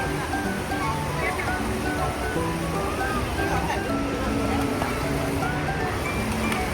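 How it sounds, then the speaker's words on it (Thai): An artificial waterfall inside the Seacon Bangkae shopping mall pours with a constant broadband rush that fills the background, while a parent and child chat nearby over it. "นี่ไงน้ำตกสวยมาก"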